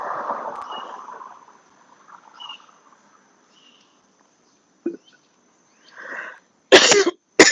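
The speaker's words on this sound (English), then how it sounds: "Excuse the cough, please." A single person coughs near the microphone, a couple of short sharp bursts near the end after a stretch of quiet room tone with faint murmuring.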